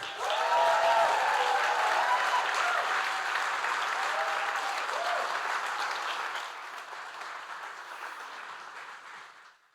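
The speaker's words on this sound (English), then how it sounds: "one last round of applause for these three" An audience at a Boston Celtics championship event gives a sustained round of applause that stays dense and even before slowly thinning and fading out at the end.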